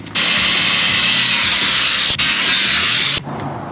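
A power drill runs steadily and loud for about three seconds, driving extra screws into wood boards while building a floating dock, with a brief dip midway before it cuts off.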